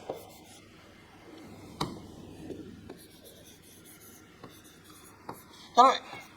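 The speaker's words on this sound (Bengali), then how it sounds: "এই বাক্যটি লিখলাম।" Pen scratching steadily across paper as a sentence is handwritten, with soft strokes and a few sharper taps and a firmer scrape near the end, close and quiet in a calm room.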